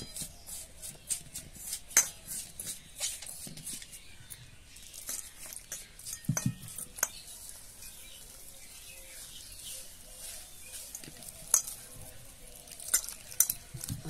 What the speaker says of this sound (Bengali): এবার এটা ভালো করে আমি মিক্স করে মাখিয়ে নেব।